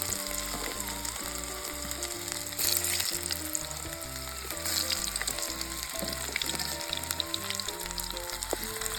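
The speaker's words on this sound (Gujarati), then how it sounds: "આપણે તવેલીમાં તેલ નાખી એમાં આપણે બટેકાને ફ્રાય કરવાના છે." Whole potatoes fry in oil in a pan for a desi-style Gujarati whole-potato dish, giving a steady crackling sizzle throughout while melodic background music plays over it.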